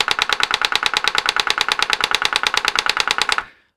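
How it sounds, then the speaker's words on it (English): A solenoid recoil system in an Aliens Extermination arcade gun, with a 3D-printed captive holder and leather recoil pad, fires a rapid, steady burst of sharp mechanical clacks, about eight per second, loud and close, stopping abruptly after three and a half seconds. "there is a very snappy recoil system featuring a 3D printed captive holder for a solenoid"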